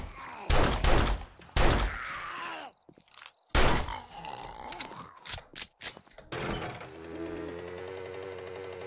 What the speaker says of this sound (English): Drive-by shooting, I guess.